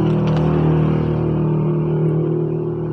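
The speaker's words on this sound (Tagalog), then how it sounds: "Yung maingay na yan, mga sasakyan dito. Nasa highway kasi ako." Traffic on a highway: a steady, loud engine rumble and tire roar from passing vehicles, continuous throughout with a slight fade toward the end, no talking.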